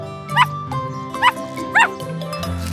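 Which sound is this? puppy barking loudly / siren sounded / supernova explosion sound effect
puppy barking loudly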